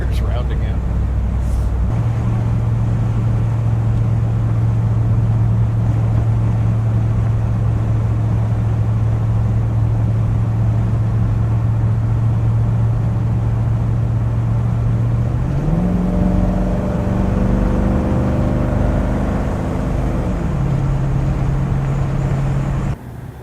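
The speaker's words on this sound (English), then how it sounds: "I'm doing little burnouts here and there to try to get the tires round again." A Ford Falcon wagon, a high school project car, revs hard during small burnouts, its engine holding a steady high whine before climbing and shifting pitch; loud and close, with no talk.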